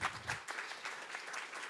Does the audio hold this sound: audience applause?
yes